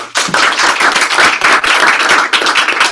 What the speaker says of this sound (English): So can we clap loud for Luke?